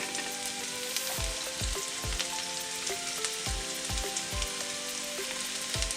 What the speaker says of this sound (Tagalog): So pag gigis ako, maglalagay na rin akong bay leaves.